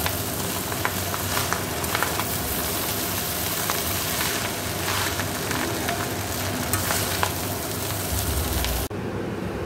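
Chowmein noodles stir-fried in a pan after an egg has been fried, a loud, continuous close sizzle with constant scraping and tossing of the utensil, cutting off abruptly near the end.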